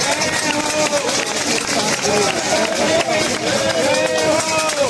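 A large audience at a student-union stage event applauds loudly and continuously for five seconds, a thick wash of clapping mixed with cheering and raised voices.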